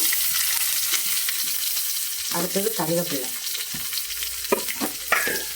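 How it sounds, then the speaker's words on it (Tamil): Oil sizzles steadily with a broadband hiss as shallots fry with fenugreek seeds for fenugreek rasam, with occasional stirring clatter and a brief spoken remark over the cooking. "இப்போ எல்லாம் போட்டு நல்லா சின்ன வெங்காயம் பொரிஞ்சு வரணும்"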